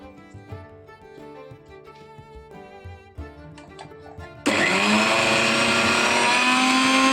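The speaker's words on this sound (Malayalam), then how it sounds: "ഈ ചെറുനാരങ്ങ നീരും ഇതെല്ലാം കൂടെ ചേർത്ത് മിക്സിയിലൊന്ന് നന്നായിട്ട് അരച്ചെടുക്കുക" A kitchen mixer grinder blending green chili, cumin, chaat masala and lemon juice starts up suddenly after a quiet stretch of background music, then roars loudly and steadily close by until the end.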